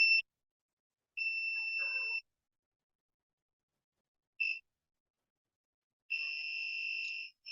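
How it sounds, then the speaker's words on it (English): An Arduino multifunction shield buzzer gives slow, spaced electronic beeps, high-pitched and clean, some short and some held for about a second, with silence between them and no voices. "You can see some sort of high pitch frequency you're able to observe in the buzzer."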